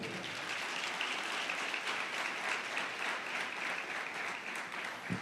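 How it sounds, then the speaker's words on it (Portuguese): A church congregation applauds during a sermon, a steady, dense wash of many hands clapping throughout, fairly loud and even, with no break. "pode aplaudir o Senhor então"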